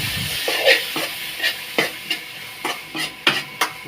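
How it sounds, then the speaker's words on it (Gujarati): A spoon stirs spices into a gravy in a pan, giving rhythmic scraping strokes and clinks about every half second over a gentle, steady sizzle. "આળસીથી પકડીને આપણે એને મિક્સ કરી દઈએ"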